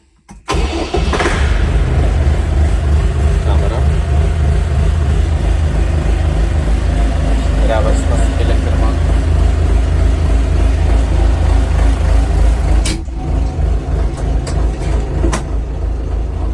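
A Scout TY-404 mini tractor with a cab cranks and its engine starts, then settles into a loud, steady, close idle. The rumble drops briefly near the end and then continues.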